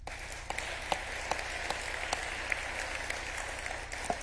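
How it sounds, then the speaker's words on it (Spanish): Faint, distant applause from an audience at a United Nations event, a soft steady patter of clapping with a few sharper individual claps standing out. "Un fuerte aplauso."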